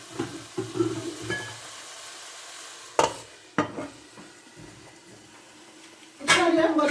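Beef stew, potato stew and chicken drumsticks cooking in a pan, with a steady low sizzle under occasional stirring and pan knocks, plus a few sharp clatters of utensils against the pan.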